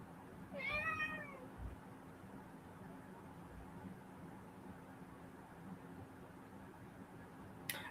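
A single cat meows once near the start, a clear rising-falling cry over a steady background hum, then the room stays quiet apart from noise.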